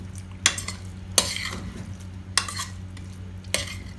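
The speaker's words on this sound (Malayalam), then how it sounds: "എന്നിട്ട് ഒന്നും കൂടി ഒന്ന് മിക്സ് ചെയ്യാം" Avial vegetables with coconut oil are mixed in a pressure cooker, four crisp spoon scrapes and knocks against the metal rising above a quiet, steady sizzle at close range.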